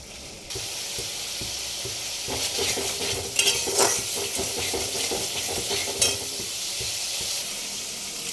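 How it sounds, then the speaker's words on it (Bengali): A masala of ginger, tomato and turmeric fries in a pan for ghugni, a soft steady sizzle broken by a few scraping stirs and clinks against the pan. "সব দিয়ে মশলাটা কষেছি।"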